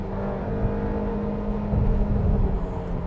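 A 2020 Cadillac XT4 with a nine-speed transmission spins its tires in second gear, a steady loud roar of engine and tire noise with a droning tone and a slight surge near the end.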